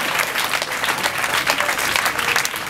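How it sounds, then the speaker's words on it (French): Audience applause at a gathering honoring a social affairs minister, dense continuous clapping from a crowd, fairly close and even throughout. "Vous pouvez l'applaudir."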